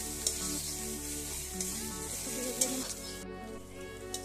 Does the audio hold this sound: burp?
no